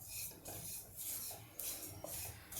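Semolina is dry-roasted and stirred in a pan over high heat, giving a steady scraping, rasping sound in repeated strokes with faint metallic clinks from the utensil.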